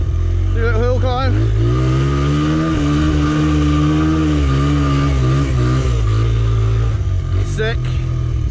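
A Honda CRF100F dirt bike on street tyres climbs a hill, its small engine droning steadily and rising and falling with the throttle, with a voice over it.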